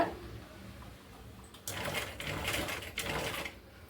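A sewing machine stitches a frill on a saree blouse. Its rapid mechanical needle chatter starts partway through, stays close and steady, and briefly falters before carrying on.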